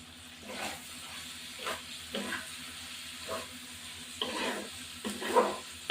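Lote fish being stirred and fried with soft fresh coriander leaves in a pan, a steady low sizzle broken by several scraping stirs at regular intervals, close and moderately quiet with no talking.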